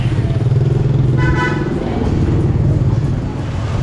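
Scooters and motorbikes hum through traffic on a busy Hanoi street, with a short horn toot and engines droning nearby under a faint voice.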